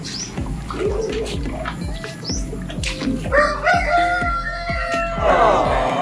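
Chickens moved after a flood cluck and flap their wings nearby while a rooster crows loudly, with repeated rhythmic thumps and scratching underneath.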